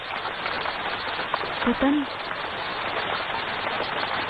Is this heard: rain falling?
yes